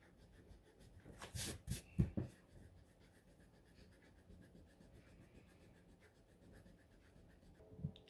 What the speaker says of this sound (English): We're going to write something on a piece of paper and see if these actually work and actually erase.